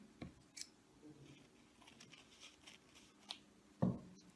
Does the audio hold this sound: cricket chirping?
no